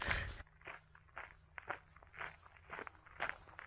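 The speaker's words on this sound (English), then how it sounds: "Probably a little noisy on the gravel." Footsteps crunch over gravel on a hillside trail in South Korea in a steady walking rhythm, each step a short scraping crunch, fairly close and at moderate volume.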